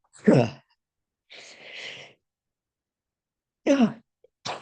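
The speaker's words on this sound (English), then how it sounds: "Excuse me while I sneeze." Breathy nasal bursts and a sharp sneeze, close by, separated by a soft drawn-out exhale and a pause of silence.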